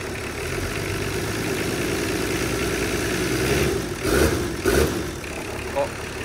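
Nissan Patrol pickup engine runs steadily after being reinstalled, a loud, rough idle with a few short revs near the end and voices talking over it.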